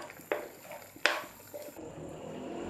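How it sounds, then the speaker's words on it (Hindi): Water goes into a hot pan of honey chilli potatoes, a couple of sharp sizzling splashes followed by a soft simmering hiss, close by with no talking. "1/4 कप पानी मैं इसमें ऐड कर रही हूँ"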